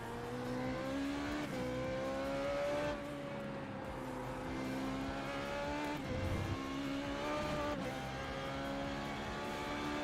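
Formula 3.5 race car engine in iRacing at Spa-Francorchamps, droning loudly and steadily with pitch sagging and wavering on the straights, suggesting the engine bogging down, alone with no talk.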